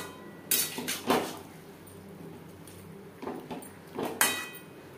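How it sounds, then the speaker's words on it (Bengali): Cabbage being stirred together with potatoes and spices in a pan, with a few scraping and clinking strokes of a metal spatula in two short bursts separated by a quiet pause. "আলু ও মশলার সাথে বাঁধাকপি বেশ ভালো করে মিক্স করে দেব।"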